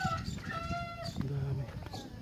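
Chickens cluck and a rooster crows outdoors in a rural provincial yard, steady farmyard calls running throughout under a busy ambient backdrop.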